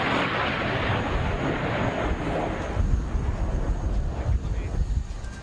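A Panavia Tornado swing-wing jet makes an inverted flypass at the Cosford airshow, heard as a steady, loud broadband roar mixed with wind buffeting on the microphone, holding fairly even throughout with slight swells toward the end.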